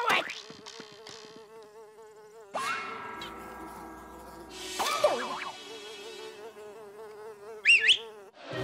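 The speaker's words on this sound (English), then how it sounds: "That'll keep the mosquitoes away, Henry." In a cartoon, mosquitoes give a steady thin whine that holds through the scene, with the buzz swelling and shifting in pitch as cartoon sounds and brief vocal squeaks cut in.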